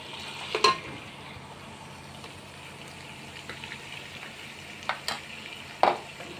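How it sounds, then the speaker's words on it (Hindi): Beef and masala frying in a pot for bhuna gosht, with a steady low sizzle under occasional sharp scrapes and clinks of stirring, close and moderately quiet, no talking. "ये सारा मसाला इस गोश्त में डाल दें और इसे खूब अच्छी तरह से भून लें"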